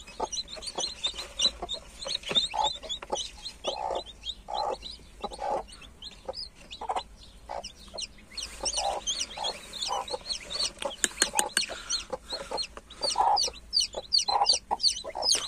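Broody hens clucking repeatedly in close, overlapping bursts, with a busy chorus of chicken calls and brief sharper squawks, no talking.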